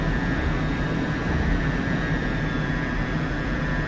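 Steady, loud jet engine drone inside the cockpit in the DCS World flight simulator during a landing approach with gear down, a constant broadband roar with a thin high whine throughout.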